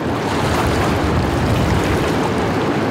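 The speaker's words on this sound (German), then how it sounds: "Das sind die Wellen, weißt du, die manchmal in die Schnur schlagen." Waves slapping against a taut fishing line during a perch and zander fishing contest from a boat, a steady loud wash of water and wind noise with no clear separate slaps.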